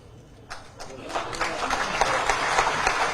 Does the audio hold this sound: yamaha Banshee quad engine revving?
no